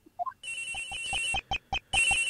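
A cell phone in the Ace Attorney Investigations video game gives a short rising chirp, then rings in a loud electronic tone with rapid repeated pulses, pausing briefly between bursts.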